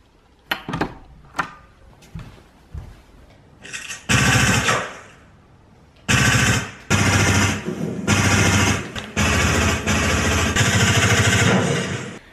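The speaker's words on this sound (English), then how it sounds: "I can hear guns going off" Bursts of rapid gunfire at night, several loud rattling volleys of a few seconds each separated by short gaps, preceded by scattered sharp cracks; no talking.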